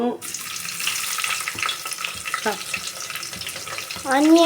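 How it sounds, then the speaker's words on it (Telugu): Onions sizzle and fry in a pan for vegetable pulao while being stirred, a close, crackling hiss with scraping stirs and a louder burst of sizzling toward the end. "ఆనియన్స్ వేసినాను. మిక్స్ చేసుకోవాలి."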